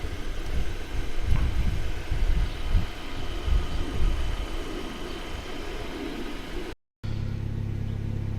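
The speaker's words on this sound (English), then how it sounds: "So I'm gonna let the engine warm up a little bit" A Mazda Miata engine idles while warming up, a steady low mid-pitched hum with slight rough pulsing. A brief dropout near the end is followed by a steadier, smoother drone.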